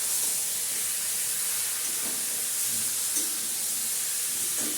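Meat braising and frying in a pan with onions, a steady loud hiss of steam and sizzle filling the whole stretch, with faint scrapes now and then, close up and with no voices.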